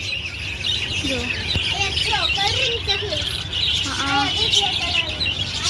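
Caged birds, including pigeons, chirp and squawk nearby in a noisy setting, with a brief spoken word among the calls.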